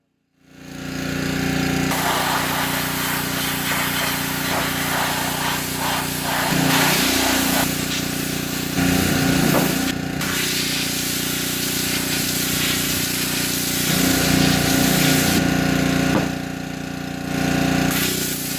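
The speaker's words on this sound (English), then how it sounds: "before blasting with the pressure washer" A pressure washer blasts a Weber Spirit E-210 gas grill, a loud continuous hissing spray over a steady engine drone, with the jet's pitch shifting as it sweeps across surfaces.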